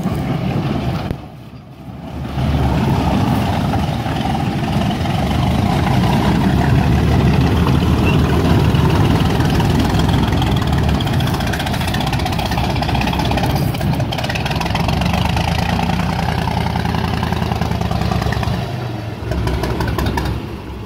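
A loud engine of a Nashorn tank runs steadily and close by with a rough, rumbling tone, briefly dipping near the start and again near the end as it struggles.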